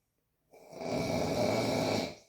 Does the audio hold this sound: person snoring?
yes